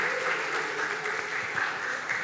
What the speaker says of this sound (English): Give big applause for our third speaker